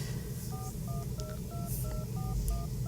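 Keypad tones from a phone as a number is entered: about nine short, evenly spaced dual-tone beeps in a steady rhythm over a low background hum.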